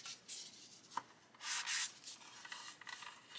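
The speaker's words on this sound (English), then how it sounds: "1500 grit sanding sponge," Quiet scratchy rubbing of a 1500-grit sanding sponge on a stencil edge, a few short swipes with soft pauses between them, close up with no voices.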